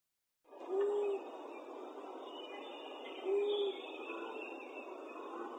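Owl calls from a species found in Southern Ontario, two short tonal hoots a few seconds apart, clear and fairly close over a soft hiss with nothing else heard.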